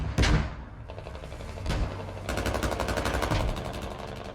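Mortar impacts and rattling automatic gunfire in the military shooter Squad, with sharp booms early, then sustained rapid bursts of shots, moderately close and loud.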